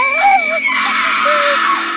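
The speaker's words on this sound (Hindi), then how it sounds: "शिवानी जोर से चिल्लाई," A woman screams loudly and shrilly in a Hindi horror story narration, a sustained wavering cry with rising and falling pitch, close and alone over a steady background tone.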